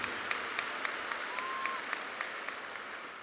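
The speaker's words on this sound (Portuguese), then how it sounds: "Let's clap for Bishop T.D. Jakes." An audience at a church conference claps steadily for Bishop T.D. Jakes, a continuous wash of applause from a large crowd with a few sharper claps standing out.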